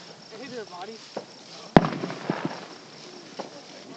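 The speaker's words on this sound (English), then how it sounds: "What kind of fireworks are those cheap, goofy ones?" Cheap fireworks give a single sharp pop mid-clip followed by faint crackles, with people talking nearby before and after the bang.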